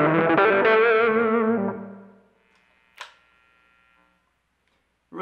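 Electric guitar with a distortion effect switched in, ringing out a sustained, saturated chord that fades away, followed by faint string noise and a short picked attack near the end.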